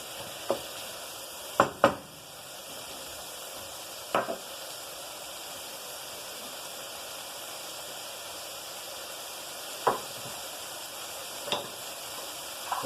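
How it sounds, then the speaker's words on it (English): Tiny mini sweet peppers fry in a pan with a steady, close hiss of sizzling, broken by a few sharp clicks and pops from utensils near the start and again later, with no talk. "We're going to add these are mini peppers, the real tiny ones, real tiny peppers."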